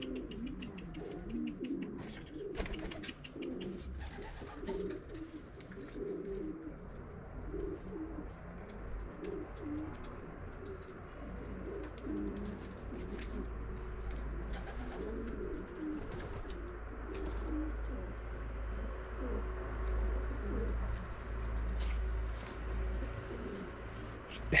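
Racing pigeons coo steadily in a loft after a 125 km official race, soft repeated low throaty calls layered over one another with a constant low rumble underneath, moderately close and continuous throughout.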